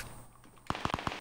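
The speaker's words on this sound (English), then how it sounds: "Pump shotgun." Pump shotgun in Fortnite: after a quiet start, a quick string of five or six sharp, punchy gunshot blasts crackles in rapid succession at close range.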